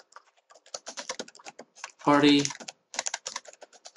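Someone types on a computer keyboard in quick bursts of light clicking keystrokes, entering text into an Excel spreadsheet cell, with a voice speaking briefly in the middle.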